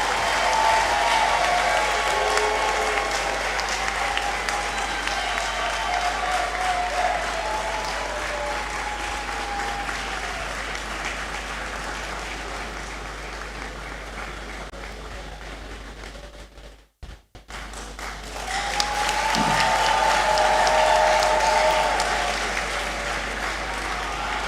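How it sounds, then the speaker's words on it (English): Sustained applause fills a large hall at a University of Ghana graduation congregation, loud and dense, with some whooping over it; it dips briefly to near silence, then swells back to full strength. "Let us give him another round of applause."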